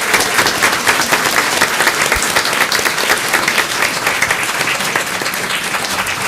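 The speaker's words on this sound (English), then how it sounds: "We'll clap." A school board meeting audience claps steadily, dense and sustained applause from a room full of people filling the whole stretch without a break.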